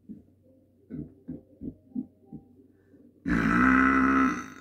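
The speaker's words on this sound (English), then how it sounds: "If you're not a big fan of burping, then don't do this." A person's low grunting gulps in a quick rhythmic series, followed by one long, loud, drawn-out burp close to the microphone.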